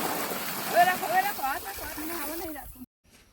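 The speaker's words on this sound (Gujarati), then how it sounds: "પપ્પા મોટર ચાલુ કરીને અમે લોકો અહીંયા પાણી ભરી રહ્યા છીએ" Water runs from a motor pump as containers are filled, a soft flowing and splashing rush under a nearby voice that talks throughout before the sound cuts off abruptly near the end.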